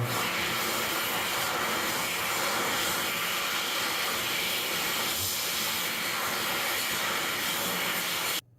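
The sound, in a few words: Xlerator hand dryer with 0.8 nozzle at Starbucks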